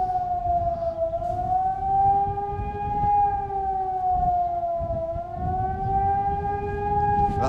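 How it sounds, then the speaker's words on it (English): A tide warning siren on the Arnside promenade sounds a loud, steady tone that gently wavers in pitch. It carries clearly across the coast with no voices over it. "That's warning you of the incoming tide. I think the second siren that goes off, the tide is very imminent."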